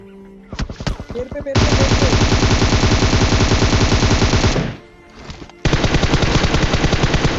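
Automatic gunfire in the mobile battle royale game PUBG Mobile, dense rapid bursts of shots, loud and close, with a brief pause before another sustained volley.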